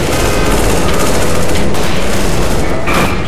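Dense, continuous automatic gunfire from a shooter video game, a loud unbroken rattle of rapid shots filling the whole stretch with no pauses.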